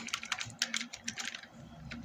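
Quick, uneven typing on a computer keyboard, a close run of light clicks and taps with brief pauses, heard alone over a faint low hum.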